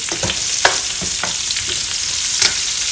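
Garlic sautéing in oil for Ilocano pinakbet, a steady bright sizzle running throughout with a few clinks and scrapes of stirring, close and fairly loud, no talking.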